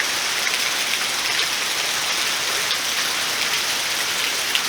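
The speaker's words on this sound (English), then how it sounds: "We've had a little lull in the rain, and then it started up again, and we have had torrential downpour" A torrential downpour drums down steadily outdoors by a brick planter, a loud, constant wash of rain hitting surfaces with no pauses and no talking.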